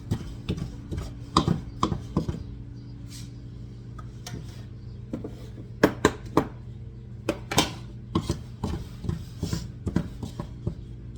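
Biscuit ingredients are mixed in a bowl, heard as irregular soft taps, scrapes and knocks at close range, with a few sharper clicks scattered through.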